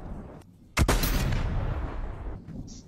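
A single sharp video game gunshot cracks out loudly, then a long rumbling boom decays under steady background noise.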